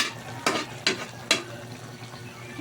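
Shrimp paste (alamang) drops into a hot pan and is sautéed, giving three sharp sizzling bursts of stirring that fade between strokes, close and moderately loud with no talking.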